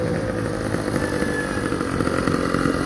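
A small two-stroke motorcycle engine runs steadily and close by, a dense buzzing drone that holds even without pauses or speech, outdoors at Seaside, Oregon.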